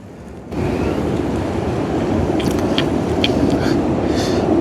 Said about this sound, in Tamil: கனடாவில் வந்து புயலில் மாட்டியாச்சு அதாவது பனி புயலில் மாட்டிக்காச்சு